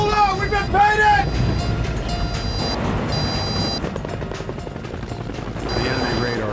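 A military helicopter flies low and fast only about 100 feet above the deck, its rotor and engine roaring steadily throughout, while tonal beeping alarms chime on and off over a few passages.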